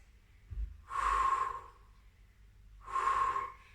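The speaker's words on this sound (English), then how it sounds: "Breathe here for 2 breaths." Two slow, audible breaths during a kneeling workout exercise, each a soft airy exhale of about half a second to a second, close and clear in a quiet room with no talking.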